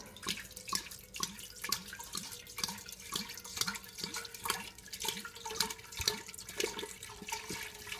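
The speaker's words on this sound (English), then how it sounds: "We're going to pour it into the kettle and fill this up." Tawny port wine pours steadily into a kettle with a gurgling, splashing flow and small rhythmic glugs, fairly quiet and close.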